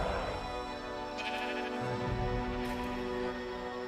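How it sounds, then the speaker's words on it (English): Sheep bleat repeatedly in the ARK survival video game, several overlapping calls close by over a steady background of game music and ambience, with no one talking. "These were all your sheep."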